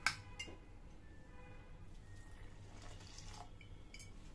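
Water is poured into an aloo posto paste in a home kitchen, giving a soft, close liquid splash and trickle that starts with a small clatter and then continues faintly and unevenly.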